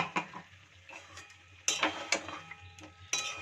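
A spoon stirs ground cashew paste into chicken curry in a pan, making quiet, close scraping and clinking strokes in a few distinct bursts with a faint sizzle between them.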